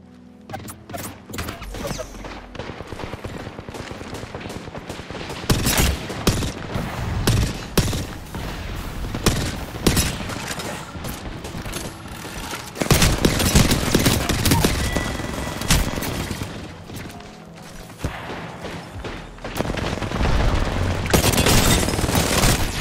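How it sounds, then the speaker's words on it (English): Nemesis burst rifle fire in an Apex Legends team deathmatch: loud, dense volleys of clipped bursts with booms and impacts, nearly continuous, mixed with other gunfire. "The Nemesis, the new burst weapon."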